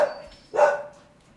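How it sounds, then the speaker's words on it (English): A single dog bark rises out of a quiet room, short and close, trailing off into a faint tonal hum. "Sorry, my dogs."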